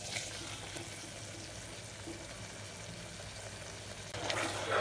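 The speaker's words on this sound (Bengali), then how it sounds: "এই মশলাটাকে আমি খুব ভালোভাবে এবার লো টু মিডিয়াম ফ্লেমে অ্যাডজাস্ট করে আমি মশলাটা কষিয়ে নেব" Spice paste for a whole green moong dal curry being stir-fried on a low-medium flame, giving a steady close sizzle and stirring scrape throughout that swells louder near the end, with no voices.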